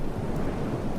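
Thunder and rain in the video game Death Rails form a steady, dense low rumble with a wash of rain noise throughout, continuous and fairly loud.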